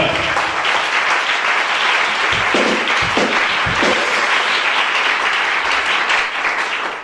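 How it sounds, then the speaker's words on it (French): A church congregation bursts into sustained loud applause and clapping, dense and continuous for several seconds, with some cheering and voices mixed in before it tapers at the end. "Acclamons pour Jésus-Christ."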